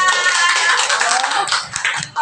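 Indonesian teacher-training forum audience applauding indoors, a dense continuous wash of many hands clapping at close range, fading slightly near the end.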